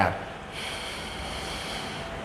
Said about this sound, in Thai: หายใจเข้าทางจมูกครับ